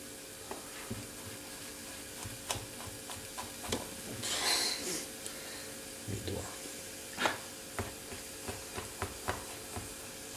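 Finely diced shallots sweating in a pan give a soft, low sizzle with scattered clicks and light utensil taps, close but quiet, with one brief louder hissing burst midway.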